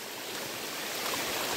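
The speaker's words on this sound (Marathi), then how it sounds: "पूर्ण खालपर्यंत गेलाय झरा." A small mountain stream on a Konkan trail rushes in a dense, continuous broadband wash of flowing water, close and steady with no voices.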